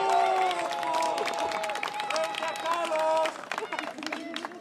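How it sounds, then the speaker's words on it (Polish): Crowd applauding and cheering after a knight wins a bout at the Grunwald 2016 medieval tournament, dense clapping with voices mixed in, dropping off near the end. "Brawa!"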